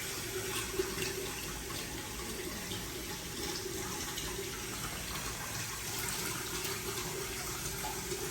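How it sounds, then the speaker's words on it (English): Water runs steadily from a tap, a continuous even splashing hiss that stays at one level for the whole stretch, fairly faint and with no voices over it. "he says he has to run the water"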